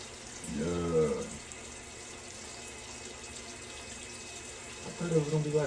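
Tap water runs steadily into a soap mixture being thinned down, a soft continuous wash heard at moderate level between bursts of nearby talking at the start and end.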